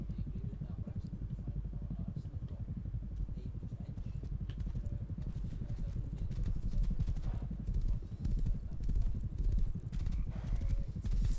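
In the survival game Rust, a horse's hooves clop in a quick, steady rhythm over a dull low rumble, moderately close and continuing without pause as the horse moves along.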